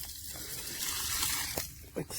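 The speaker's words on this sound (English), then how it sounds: "So what I do is I just dump out the excess water," Excess water is poured out of a 2.5 x 10 inch whole-house carbon sediment water filter housing, a short, fairly faint splashing and trickling with a couple of small drips near the end.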